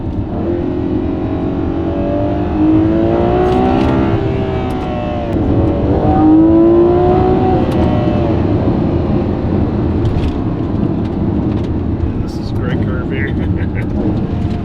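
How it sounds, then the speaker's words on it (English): A Ferrari 12Cilindri V12 accelerating at partial throttle, a loud rising engine drone from inside the cabin that climbs through revs, with voices talking over it. "I've only put my my foot a third down on the whole throttle."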